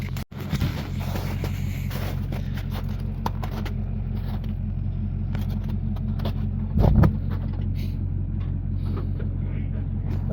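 A car idling with a steady low engine rumble, close and continuous, with a brief louder surge and some light scraping as it moves onto a trailer.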